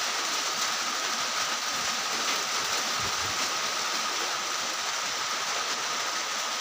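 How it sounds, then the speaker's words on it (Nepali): Steady rain pours down in a dense, unbroken hiss that stays loud and even throughout, with no voices over it. "तपाईँले हेर्न सक्नुहुन्छ मौसम यस्तो छ। अब यो पानी अझै एक हप्ता पर्छ भन्ने कुराहरू भइरहेको छ।"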